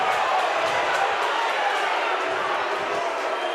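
A rugby league crowd at an away match against Bradford Bulls, with fans abusing the referee, sends up a dense, sustained roar of many voices in a large stadium, loud and unbroken.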